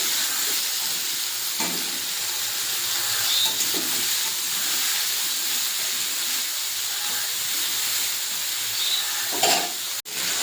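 Eggplant frying in hot oil, a continuous loud hiss and sizzle that holds steady for the whole stretch with a few faint knocks, no voices.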